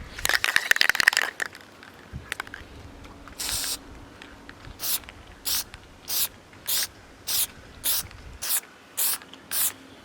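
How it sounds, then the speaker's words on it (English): An aerosol can of Plasti Dip sprays in a long hiss, then in about eight short, evenly spaced bursts, near and clear, with some handling noise at the start. "Spray it."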